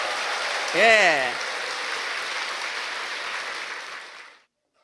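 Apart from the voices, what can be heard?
audience applause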